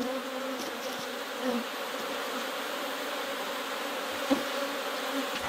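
An agitated honeybee hive hums loudly and continuously at close range while the colony is being split, with a few sharper bee passes buzzing briefly near the ear.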